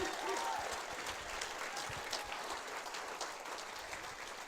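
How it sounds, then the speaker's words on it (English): Audience applause following a comedy set at a gathering; a large crowd claps steadily and continuously for several seconds at moderate volume, with some faint voices underneath. "Can we give Bob one more round of applause as well?"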